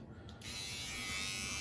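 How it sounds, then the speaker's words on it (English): Remington Omniblade HG4000 electric shaver switching on to a steady close buzz while shaving a head, a faint handling rustle coming just before the motor starts and then a continuous whine. "But it is good enough for shaving your head."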